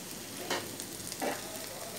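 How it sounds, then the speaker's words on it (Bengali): Chopped onion and chili fry in a pan, a faint, steady sizzle with a couple of brief louder crackles. "আমি পেঁয়াজ এবং মরিচ কুচি নিয়েছি, এটাও ভাজা দেওয়ার জন্য।"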